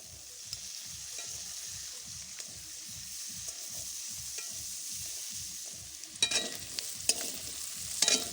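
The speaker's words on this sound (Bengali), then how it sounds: "ভালো করে সবজিগুলো ভেজে নিয়েছি।" Winter vegetables and peas are stirred in a pan with an even, repeated scraping rhythm over a quiet sizzle, ending in a few louder clattering strokes.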